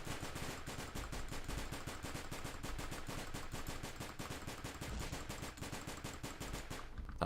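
Rapid pistol fire in the video game Paranautical Activity, a fast, even stream of sharp, loud shots repeating without pause throughout.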